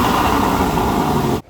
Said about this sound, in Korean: 처음에는 머플러 풀랩을 열지 않고 기본적으로 나는 머플러 사운드를 먼저 들려드리겠습니다